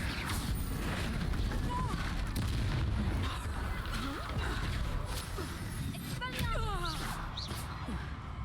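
A Confringo fire spell blasts in the Hogwarts Legacy video game, with booming, artillery-like bursts and crackling rumble running steadily throughout, while a person talks over the action.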